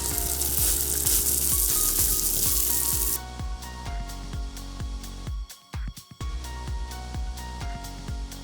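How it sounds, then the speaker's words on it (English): Salisbury steak sears loudly in a preheated pan, a dense continuous sizzle with a fierce hiss at first that settles to a steady crackle, broken by a few scraping and stirring sounds. "whenever you're searing anything, you want it to sizzle when it hits that pan"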